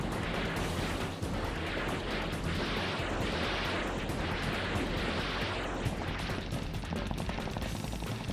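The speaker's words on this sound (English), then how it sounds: "the Cobras fire their weapons in all directions, suppressing the enemy's fire from the ground" Cobra attack helicopters fire weapons in all directions during a military landing, a continuous loud barrage of gunfire and heavy blasts with no let-up.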